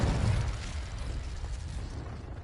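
A Confringo fire spell bursts in Hogwarts Legacy, a loud low rumbling blast at the start that rolls into a sustained noisy roar and slowly fades over a couple of seconds.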